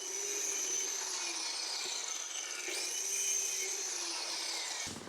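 A power saw slices through an aluminium profile for a kitchen cabinet, a loud, high, ringing whine that holds steady for several seconds, dips briefly midway, then cuts off at the end with no voices.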